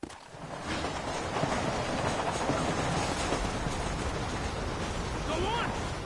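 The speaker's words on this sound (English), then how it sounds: "You have to go out there and stop the train before it crosses the bridge." A train in the Red Dead Redemption video game rumbles along continuously at fairly loud level, a dense rolling mechanical roar with faint rail clatter sustained for several seconds.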